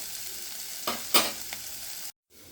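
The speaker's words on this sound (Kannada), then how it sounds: "ಹಾಕಿಬಿಟ್ಟು ಈಗ ಇದನ್ನು ಎಣ್ಣೆಯಲ್ಲಿ ತಾಳಿಸ್ತಾ ಇದ್ದೀನಿ." Onion, tomato and pounded peanuts frying in hot oil, a soft steady sizzle broken by a few louder stirring clanks and scrapes, close by, then a short dropout before the sizzle resumes.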